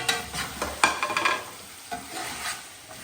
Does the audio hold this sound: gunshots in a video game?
no